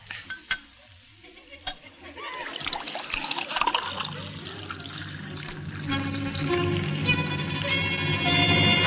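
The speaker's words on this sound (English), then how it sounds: "Go ahead, Martha. Pour him a glass" A drink being poured into a glass in a 1940s radio drama of Arsenic and Old Lace, a trickling liquid stream that builds and fills steadily over several seconds, heard alongside faint background sounds.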